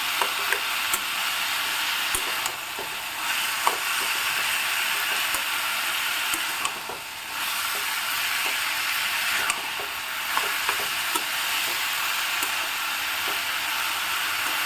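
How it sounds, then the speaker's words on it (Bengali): Banana flower frying with spices in hot oil in a pan, a steady continuous sizzle with occasional stirring scrapes, close and even throughout with no voices. "মোচাটাকে একটু ভালো করে কষিয়ে নেব মশলার সঙ্গে।"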